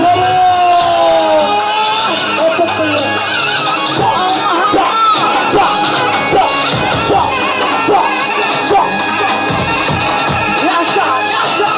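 A lively crowd shouts, whoops and claps steadily throughout, loud and close, with a singing or speaking voice carrying over the cheering at the start.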